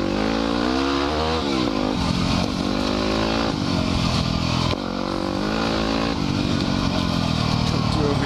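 Dirt bike ridden hard along a wooded speed trail at full throttle, engine roaring loud and close with continuous revving and pitch swings through corners, a brief dip near the middle.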